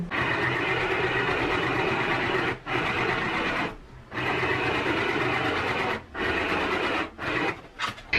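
A 12-stitch domestic sewing machine runs in steady whirring bursts while stitch patterns are tested, stopping briefly several times before starting again; loud and close, with no talking.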